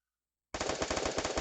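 Automatic gunfire from the video game Counter-Strike starts abruptly after a brief silence, a rapid burst of evenly spaced shots that continues loud and uninterrupted to the end.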